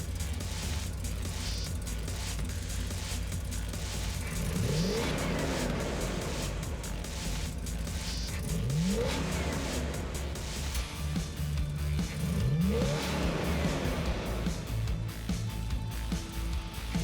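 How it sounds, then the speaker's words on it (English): Nissan S13 with a JZ engine swap, loud engine noise throughout with a few rising rev sweeps, amid the continuous roar of a busy motorsport event. "Then comes a wild S13 with a JZ swap from Brood Motors, running a setup so ferocious it bends expectations"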